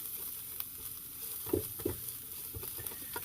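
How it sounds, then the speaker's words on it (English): Garlic and chilli stir-fried in hot oil, a steady sizzle with a few soft scraping knocks from a utensil, close and alone with no talking. "And we're going to stir fry those."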